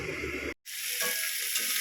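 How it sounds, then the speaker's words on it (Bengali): Loud sizzling and hissing of ginger, cumin and chilli paste frying with eggplant in a hot pan, briefly cut off for a moment before resuming steadily. "এই মশলাটা দিয়ে এখন ভালো করে ভেজে নিচ্ছি"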